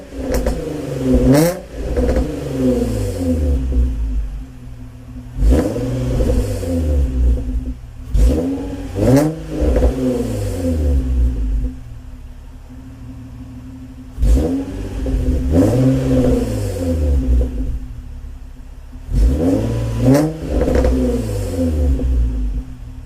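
An Infiniti G35 with a new aftermarket exhaust is revved hard in repeated short bursts close by. Each loud rise in pitch falls back to a deep, rumbling idle between pulls.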